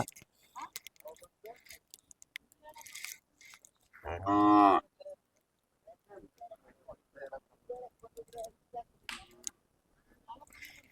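A single loud, drawn-out moo from native Hallikar cattle rings out at a rural cattle fair, standing out clearly amid scattered chatter and crowd noise before and after.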